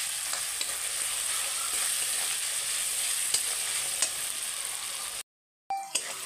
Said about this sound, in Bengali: আমি রসুনটাকে একটু ভেজে নেব।